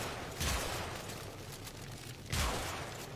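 Gunfire in the video game Warframe, with two separate blasts about two seconds apart over a low, steady game background.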